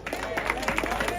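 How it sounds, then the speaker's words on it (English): Applause from an audience at a Jamaica Labour Party meeting, a short burst of scattered clapping under a background of voices. "Round of applause."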